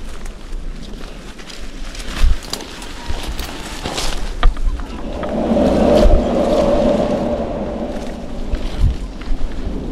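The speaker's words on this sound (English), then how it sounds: "That's the sound of a blowhole." A sea blowhole on a rocky coast gives a rushing, surging whoosh that swells in the middle, over rumbling wind and water noise with scattered knocks and thumps.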